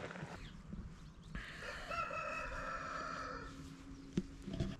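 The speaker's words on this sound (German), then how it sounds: "Da vorne der Hahn ruft uns gerade aus dem Tarp hinaus." A rooster crows in the morning near a campsite during a gravel bikepacking trip in Germany, one long drawn-out call heard from a short distance over faint background noise.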